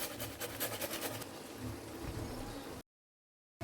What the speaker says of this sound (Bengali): জায়ফলকে আমি একটু গুঁড়ো করে দিচ্ছি।